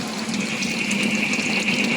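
Water pours and gushes steadily as it is drained off soaked pamalighuton edible seeds, a continuous close splashing flow with no talking.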